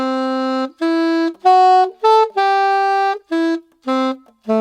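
Solo saxophone plays the first two phrases of a theme tune: about nine separate sustained notes with short gaps between them, close and bright, with no one talking.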